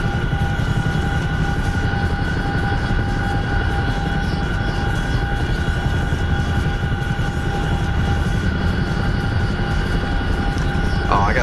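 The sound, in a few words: Chinook helicopter engine in a video game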